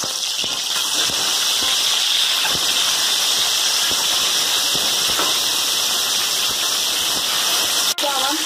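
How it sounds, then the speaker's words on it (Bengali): Salt-and-turmeric-coated egg frying in hot oil, a steady close sizzling hiss running throughout without pause, loud and even, with a brief clink near the end. "ডিমটা আমরা লাল করে ভেজে নেব"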